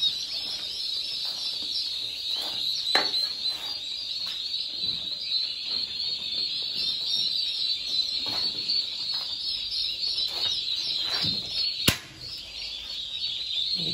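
A flock of Huba turkeys calling in a poultry house, a continuous high chirping chorus with occasional louder individual calls rising above it, with no talking.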